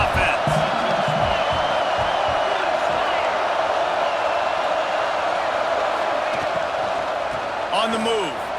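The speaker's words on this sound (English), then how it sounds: "This crowd trying to make life miserable for this offense." Stadium crowd roar from the EA Sports College Football 26 video game keeps up a loud, steady wash of noise throughout, and a commentator's voice talks over it.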